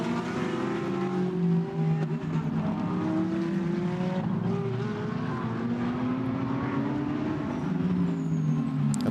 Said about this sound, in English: Right behind the Honda is the Lamborghini, car number 17.